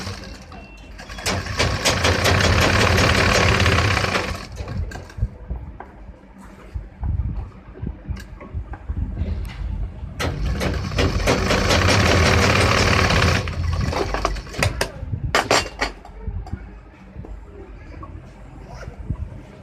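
A sewing machine stitches the zipper fly of a pair of trousers in two long, loud runs of rapid mechanical whirring, with softer handling and shuffling noises in between.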